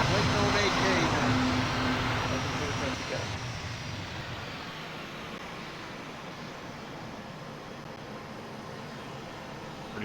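A C-17 transport aircraft on its flight from Chile to McMurdo Station touches down, a loud engine roar and rushing rumble that gradually fades into a steady hum, with people talking over it.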